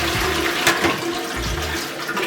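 A public toilet flushes with a loud, rushing surge of water that churns steadily for a couple of seconds, close to the listener.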